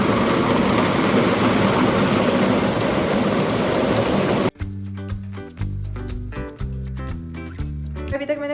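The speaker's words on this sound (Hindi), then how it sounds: "अभी मैं आपको यहाँ खुल करके दिखाती हूँ कितनी तेज़ बारिश हो रही है।" Heavy rain falls in a dense, steady roar for several seconds, then cuts abruptly to music.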